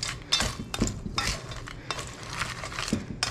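Salad with croutons and dressing is tossed in a bowl, with several wet, crunchy mixing strokes and utensil scrapes coming in uneven bursts, close and moderately loud.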